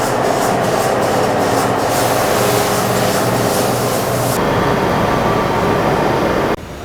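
A Haas CNC machine cuts a 30-inch wheel for a 124 ci Harley-Davidson Street Glide, a loud, steady broadband roar that drops in intensity partway through and cuts off sharply near the end.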